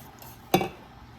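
A spoon gives a single sharp clink against a pot as cheese is stirred into veggie lasagna sauce, followed by quiet.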